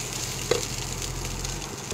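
Chopped vegetables for chowmein stirred in a hot pan, a continuous soft sizzle and fry with one small scrape of the spoon near the start.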